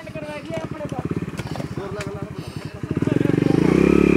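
A struggling motorcycle engine chugs in rapid uneven pulses as several people push it up onto a road at a work site, rising to a louder revving drone at the end, with people talking throughout.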